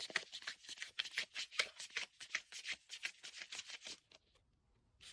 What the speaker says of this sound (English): So I have to continue shuffle